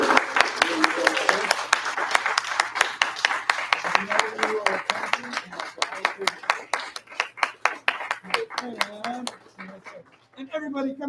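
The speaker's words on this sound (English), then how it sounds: "So give him a big round of applause." A martial arts class claps for a student earning his white belt, steady loud clapping from a small group that keeps going for several seconds, with voices and a dog-like yelp mixed in near the end.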